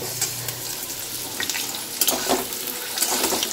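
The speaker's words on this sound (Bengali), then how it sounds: "আর এদিকে দেখো উচ্ছে ভাজা হচ্ছে" Bitter gourd frying in oil in a pan, giving a steady crackling sizzle up close, broken by occasional clinks and stirring scrapes.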